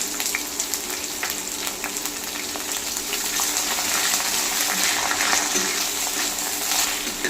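Chopped onions drop into hot oil with whole cumin and a bay leaf for dhaba-style chicken masala, a steady, moderate sizzle and crackle that swells slightly midway, with no talk.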